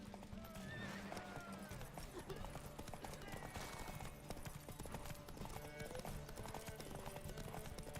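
Roach the horse gallops in The Witcher game with rapid, loud clip-clopping hooves throughout, plus a neigh, while a voice talks faintly underneath.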